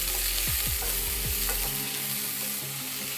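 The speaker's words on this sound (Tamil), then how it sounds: "இப்போ வதக்கிக்கலாம்." Continuous frying sizzle of chopped onions and green chillies sautéing in a pan for ragi adai, with a few low knocks from stirring early on.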